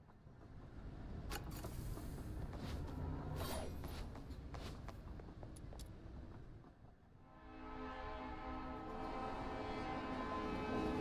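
A train runs steadily in the Duet Night Abyss video game, its loud rumble and clatter continuous throughout, with brighter metallic squeals and horn-like tones in the first half, then a dip before the rolling noise swells again.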